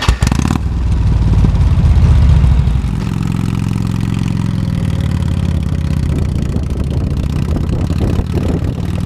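A touring motorcycle engine on a back road runs loud and close, revving briefly before settling into a steady throbbing drone with clattery mechanical detail, no talk.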